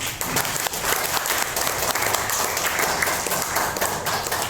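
Loud, sustained applause greets the Indonesian ambassador at a seminar event, a dense continuous clapping from a crowd with no gaps for several seconds.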